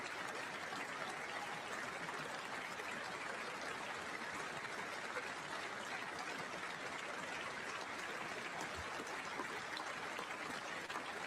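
Sustained applause at the State of the Union, a steady wash of many hands clapping that stays even and fairly distant throughout, with no clear breaks or voices standing out.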